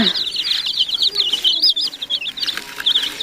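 Dense, high-pitched cheeping from a group of chicks, continuous and close, with rapid overlapping peeps throughout.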